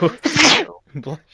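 A single loud, close sneeze erupts, followed by a quick spoken reply.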